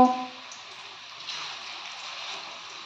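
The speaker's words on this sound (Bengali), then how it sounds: "এভাবে আমি সমস্ত পকোড়াগুলো ভেজে নেব।" Cabbage pakoras deep-frying in hot oil give off a steady, even hiss that carries through the whole stretch, with a slightly louder moment at the very start and no talking.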